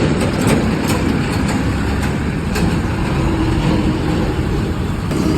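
Steady, close rumble of a TVS Ronin 225 motorcycle engine running after a paid third service, with a low, even drone and no talk.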